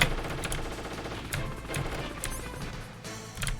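Enemy gunfire in Metal Gear Solid The Twin Snakes rattles in rapid bursts with sharp impacts and crashes, loud and close, continuing throughout without a break.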